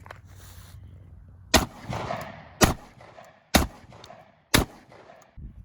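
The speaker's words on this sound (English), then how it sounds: "Next up, 4 more shots if we can get them on the plate without it falling over." Four sharp outdoor gunshots strike a dollar store body armor plate. Each crack lands about a second apart and is loud and close, with brief rumbling echoes trailing after.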